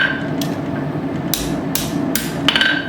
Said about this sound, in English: use the cross peen and the just the edge of the anvil